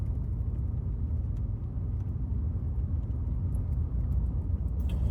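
A pickup truck on a desert road trip toward Pahrump, Nevada, heard from inside as a steady low engine and road rumble, continuous and moderately loud with no talk.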